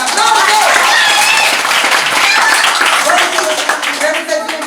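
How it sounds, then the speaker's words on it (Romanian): A loud, dense burst of applause from the audience at a children's magic show, with excited voices and shouts mixed into the clapping throughout. "Haideți o aplauzăm tare, dar aplauze!"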